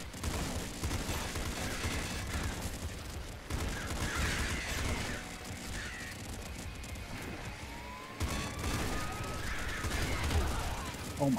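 Dense stream of game explosions and gunfire from a chaotic Nuclear Throne run, with grenades going off in a steady barrage, synthetic rumbling bursts and a rising whine layered over continuous action music.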